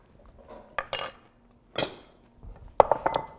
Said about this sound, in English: we'll take a spoon, we'll stir that up